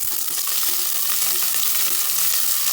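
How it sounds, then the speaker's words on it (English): Onion sautéing in a pan over a high flame for Kumbakonam kadappa lentil stew, a loud, dense and steady sizzle with light stirring, no voices. "So until then I'll do a saute."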